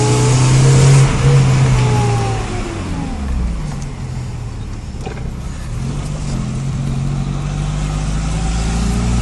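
A supercharged 1.0-litre Ford Fiesta accelerates hard, its engine loud and close as the revs climb, drop through a gear change and build again in a steady roar for several seconds.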